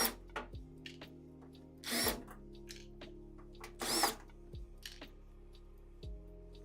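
Power screwdriver pulling screws from a small device, with short whirring bursts and quick spin-downs, plus quiet tool clicks and handling noises between them.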